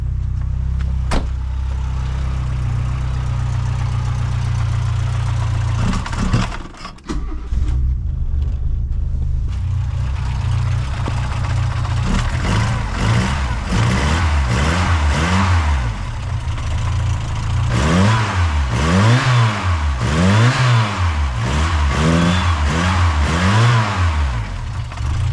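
A carburetted Volkswagen Golf 2 engine idles steadily up close, then revs again and again in rising and falling sweeps, with a loud, rough mid-pitched note and no talking.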